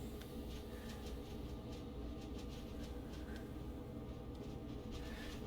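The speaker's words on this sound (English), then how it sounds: "There is the MBTA train, by the way." An MBTA commuter train rumbles past in Boston, a steady low roar with faint clicking of wheels over rail joints, heard from some distance without a break.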